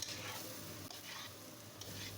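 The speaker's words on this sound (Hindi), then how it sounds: "और इसको तेज़ आंच पर चम्मच चलाते हुए अच्छी तरह मिक्स कर लेंगे।" Quiet scraping and stirring of boiled rice in a hot frying pan over high heat with a soft sizzle, the spoon strokes repeating every second or so.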